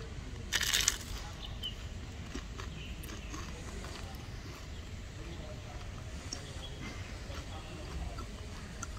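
A single crisp crunch from biting into a fried spring roll filled with mushroom and carrot, one short loud burst near the start, followed by quiet outdoor ambience with no talking.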